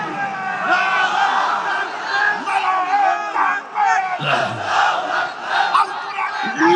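A large crowd at an outdoor political rally roars back in unison in reply to a call, loud overlapping shouted voices swelling and surging in waves, with a lone voice rising over them partway through.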